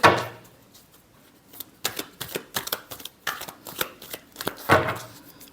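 Tarot cards being shuffled by hand in a brief riffling burst, then a run of short, crisp flicks and slaps at an uneven rhythm, close up with no voices.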